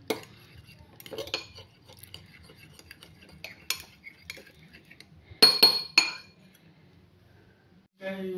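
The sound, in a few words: mixing eggs with coriander using a fork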